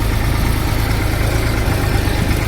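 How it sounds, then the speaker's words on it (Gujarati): A heavy loader engine rumbles continuously at close range while loading groundnut straw into a tractor trolley, a steady droning hum with no pauses. "લોડરે ભરવાનું કામ ચાલુ કરી દીધું."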